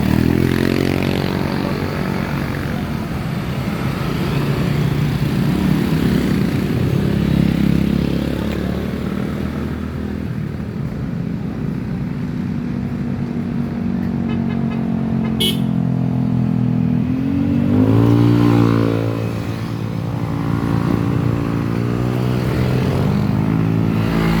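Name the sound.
motorcycle accelerating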